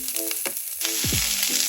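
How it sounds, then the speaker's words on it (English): Garlic sizzles and crackles in a hot frying pan, a steady loud frying hiss with a few scraping stirs. "Make sure to place the garlic in the frying pan first so it can cook a little bit"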